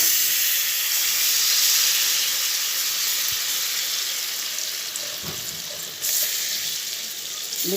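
Ground chana dal sizzles and fries in a pan with a steady, bright hiss close by, with a few soft clinks and stirring noises over the continuous frying.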